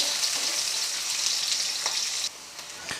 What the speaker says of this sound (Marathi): छान असा गोल्डन कलर येईपर्यंत ते परतून घेऊ.